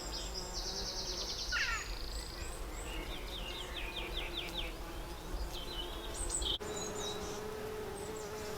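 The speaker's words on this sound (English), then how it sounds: "it's just buzzing with bumblebees right now" Steady low buzzing of bumblebees around comfrey flowers in a June garden, continuous and close, with occasional bird chirps in the background.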